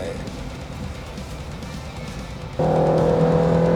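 A 2022 Suzuki Ertiga Hybrid with a CVT accelerates under full throttle on a straight track, its engine a steady droning whine inside the cabin that jumps into a higher, louder, more tonal hum partway through.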